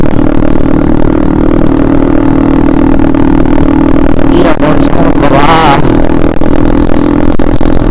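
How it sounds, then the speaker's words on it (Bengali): Motorcycle with an aftermarket exhaust running loud and steady in a droning hum, with a brief rising surge of engine revving near the end amid some clatter, heard while riding alongside another bike. "বাইকটা যেরকম এক্সাস্ট সাউন্ড মাসাল্লাহ"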